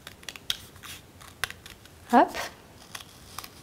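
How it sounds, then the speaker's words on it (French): Scissors snip out paper lion ears for a children's collage, a run of quick close crisp cuts and paper rustles; a voice briefly speaks midway. "On va prendre nos ciseaux et on va découper les deux."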